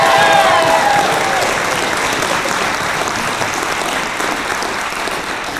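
A choir concert audience applauds the drummer and band in a loud, dense burst of clapping that fades gradually as it goes on, with a brief sung or whistled tone over the start.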